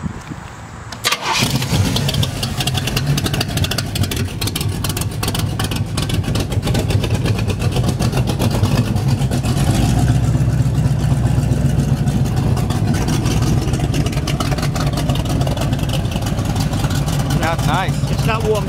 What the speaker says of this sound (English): Man, she's got a nice rumble.